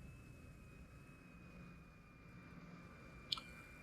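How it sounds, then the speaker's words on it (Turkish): An airplane in the video game Factorio gives a steady, faint engine drone throughout, with a single short click near the end. "Binelim uçağımıza gidelim"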